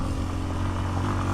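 A Honda XR150L or Kawasaki KLX230 dual-sport motorcycle rides off-road, its single engine droning steadily and close with a faint rattle of the bike over rough ground.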